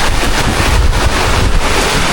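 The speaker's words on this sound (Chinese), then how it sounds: "又刮风了" Strong storm wind gusting outdoors on a rural farm, loud roaring buffets battering the microphone continuously and close, with no voices.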